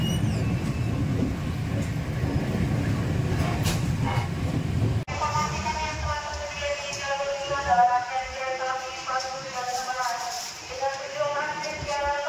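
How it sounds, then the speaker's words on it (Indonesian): Pasundan Lebaran passenger train at Lempuyangan station: rumbling wheels and rail noise for about five seconds, then a sudden cut to quieter station ambience with chiming tones and people talking. "kereta api Pasundan Lebaran kini telah tiba di stasiun Lempuyangan"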